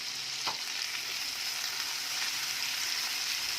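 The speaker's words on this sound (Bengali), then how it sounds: "2 থেকে 3 মিনিট হাই ফ্লেম না মিডিয়াম ফ্লেমে পেঁয়াজগুলোকে একদম ভাজা করে নরম করে নেব" Sliced onions with a little salt fry in a pan over medium-high heat, giving off a continuous, even sizzle with a faint stir near the start and no voices.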